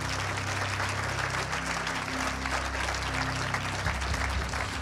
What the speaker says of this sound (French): on les applaudit tous les 4